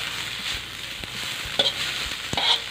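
Silkworm pupae dry-roasting in a pan, a continuous light sizzle and rustle with occasional scraping clicks from the stirring spatula, close by and without any speech.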